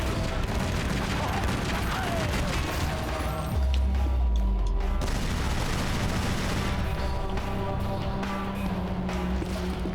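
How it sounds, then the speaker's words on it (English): A mounted gun fires continuously in Tomb Raider: Legend, a dense, loud barrage of rapid shots over a heavy low rumble and a brief deeper boom partway through, with no talk. "I popped a couple shots into one of these guys"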